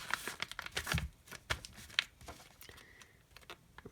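Sheet of paper handled and creased while folding an Action 90 paper airplane, with close crinkling, sharp crisp rustles and scrapes in irregular bursts, no talking.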